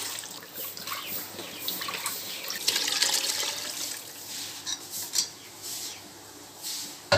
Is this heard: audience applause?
no